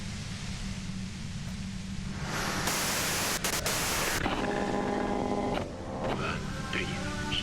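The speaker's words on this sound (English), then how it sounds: "you can do it through the white noise" White noise in the detective game Disco Elysium: a steady hiss that swells into a louder static wash midway, with crackles and tonal bleeps cutting through, underneath quiet background sound and no clear speech.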